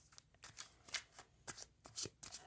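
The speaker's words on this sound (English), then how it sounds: "you saw how much I shuffled them" Cards being shuffled in quick, repeated riffling bursts, close and crisp, a rapid flutter of snapping card edges with brief pauses between.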